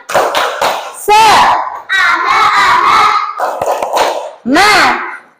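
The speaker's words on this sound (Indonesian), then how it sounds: "Yuk tepuk semangat dulu ya." A primary school class joins in a rhythmic spirit clap led by the teacher, loud bursts of children's chanting and shouting alternating with sharp clustered claps in a call-and-response pattern.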